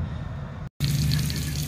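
Continuous rushing and splashing of water pouring from a cut pipe as the system drains at a property project, steady and close with a brief dropout midway.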